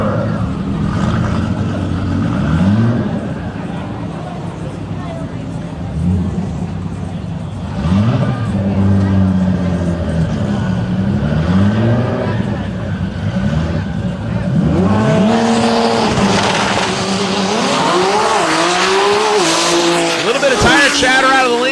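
A Lamborghini Huracan and a blue Nissan GTR launch side by side at a drag racing event, engines revving hard and rising in pitch through gears with tire chatter and squeal, while an announcer talks over the loudspeakers.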